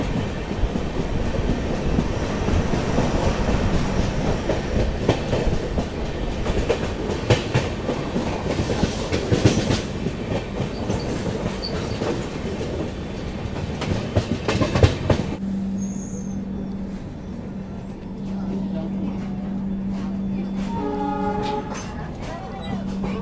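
The Konark Express runs along the rails, rumbling loudly with a rattling, clattering rhythm, then settles into a quieter steady hum as it nears Daund Junction, with people talking throughout.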